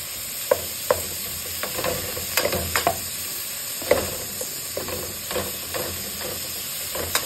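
Pork mince frying in a pan for a home-cooked lunch: a steady close sizzle, with scattered sharp scrapes and clicks as the meat is stirred every second or so.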